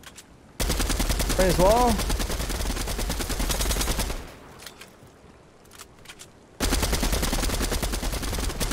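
Assault rifle fire in the Fortnite video game, loud dense bursts of rapid shots in two stretches with a quieter gap between, while players talk over it.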